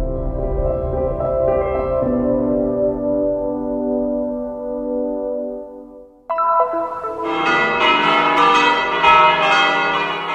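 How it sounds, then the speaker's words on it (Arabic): Church bells of the Church of the Nativity ring for Easter, first a lower resonant peal fading away, then a brighter, louder cluster of several bells clanging together, sustained and full. "دقت أجراس كنيسة المهد احتفالا بعيد الفصح"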